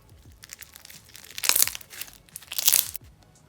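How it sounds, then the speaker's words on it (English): Crunch slime made with big foam beads being squeezed, giving two loud bursts of dense crackling bubble pops, each lasting about half a second, with quieter crinkly snaps between them. "this one's made with bigger foam beads compared to the yellow crunch slime, which gives this one the best bubble pops"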